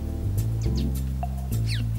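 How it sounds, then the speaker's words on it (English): Birds gather at water pots in the morning in Kenya. Several short chirps and tweets come through over a steady low hum, a few quick calls spread across two seconds. "Different types of birds descend on the water pots for a drink and grooming."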